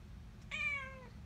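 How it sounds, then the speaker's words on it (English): A house cat watching birds lets out a single short meow, fairly quiet and close, over a soft low background hum. "Two kitties are better than one kitty."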